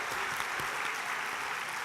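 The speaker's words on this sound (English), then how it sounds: "Please, let's give a round of applause." A round of applause at a global dignity session, steady and dense, filling the room evenly from start to finish with no voices rising above it.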